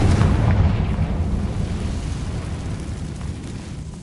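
A Confringo blasting spell explodes in Hogwarts Legacy, a loud low rumbling boom that starts at full strength and slowly fades out over several seconds, with no talking over it.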